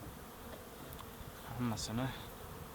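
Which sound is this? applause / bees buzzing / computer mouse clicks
bees buzzing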